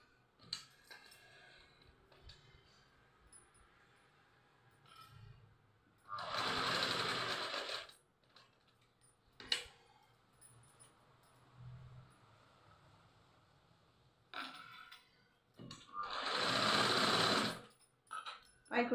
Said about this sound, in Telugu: ఇట్లా పై కుట్టేసేసుకోండి.